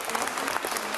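A brief, steady burst of applause from SNP members in the Scottish Parliament chamber, dense and fairly close.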